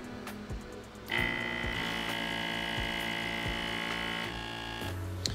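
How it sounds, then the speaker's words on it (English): A vacuum pump starts up to pull Lion's Mane mushroom extract through a filter. It gives a loud, steady motorized whine with a droning hum for about three seconds, then cuts back to a lower hum. "we just turned off the vacuum"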